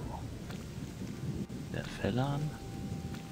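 Rain and thunder in the video game Gothic II, a steady wash of falling rain with a low rumble, under a voice and a brief tonal game effect.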